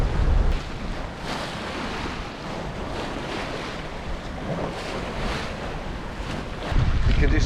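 Offshore between the Azores and Madeira, 10 to 12 knots of beam wind buffets a sailing boat while small seas wash along the hull in a continuous rushing hiss, with heavier wind gusts thumping at the start and end.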